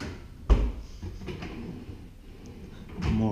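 Kitchen drawers in a rented one-bedroom apartment, opened and closed: a sharp close thump near the start, softer sliding rattles in the middle, and another drawer slide at the end, all near and without speech.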